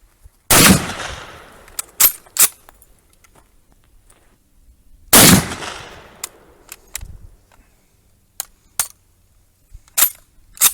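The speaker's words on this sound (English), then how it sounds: "that's actually the shortest distance you can shoot this rifle at consistently" Two loud, close rifle shots from an Austro-Hungarian Steyr-Mannlicher M95 straight-pull bolt-action rifle in 8x56mmR, each followed by a short echo decay, with sharp metallic clicks and clacks of the bolt being worked between and after them.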